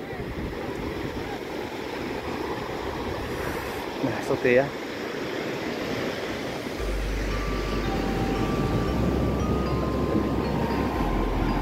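Broad, steady wash of surf rolls along the shore of Sine Beach, Tulungagung, with a brief spoken remark midway and a low rumble joining toward the end.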